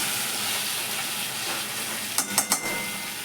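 Cashew paste sizzles in a hot pan with mustard for a pabda fish curry, a steady frying hiss with a few quick scraping stirs near the end.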